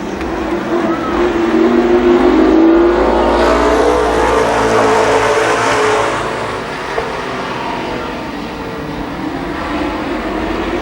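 Race cars circling Columbus Motor Speedway, engines roaring loudly as the pack passes, then fading to a steadier drone, with an announcer talking over them.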